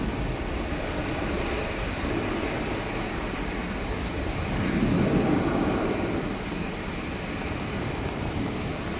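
An Airbus A320ceo airliner takes off down the runway at Manchester Airport during a storm, its engines a broad, continuous roar that swells midway, then eases, with wind noise around it.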